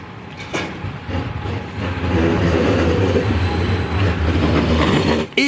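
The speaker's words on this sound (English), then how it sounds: "here's part of the operational tram network." An Edinburgh tram near St Andrew's Square passes close by on a winter street, its rumble swelling into a loud, sustained rolling roar with faint rail clatter before a sudden cut at the end.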